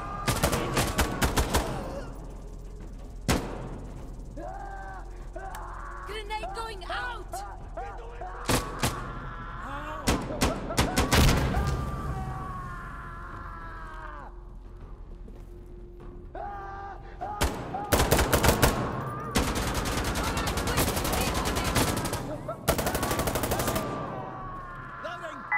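Gunfire in Insurgency Sandstorm during a limited Task Force 666 event: bursts of automatic fire and single heavy shots come in clusters with pauses between them, loud and close, alongside other game noises.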